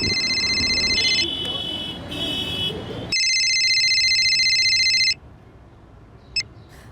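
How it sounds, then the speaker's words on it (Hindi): An electronic phone ringtone trills in two long bursts over a muffled background murmur during a call, followed by a brief faint tone. "जरा फोन लगाओ सुनीता दीदी को।"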